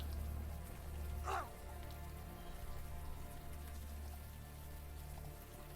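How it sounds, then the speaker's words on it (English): Steady warm rain pours down in a dim cavern scene of the adventure game Unavowed, a continuous soft patter filling the background throughout, with a brief swishing burst near the start. "the warm rain is coming down"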